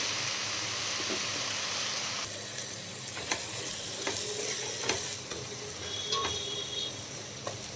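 Spices, salt and chilli powder being stirred into a sizzling soya chunk biryani curry in a pan, with a constant frying hiss and occasional spoon scrapes and taps against the pan.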